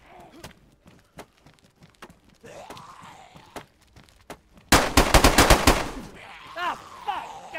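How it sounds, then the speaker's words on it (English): Gunfire in the survival game DayZ: scattered single shots crack through quiet, then a loud rapid burst of automatic fire hits near the end, with brief voices and movement sounds in between. "he shot me through the wall"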